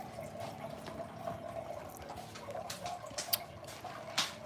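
Tap water runs steadily into a sink while dishes are washed, a soft continuous splashing stream with occasional sharper clinks and drips, fairly close and quiet.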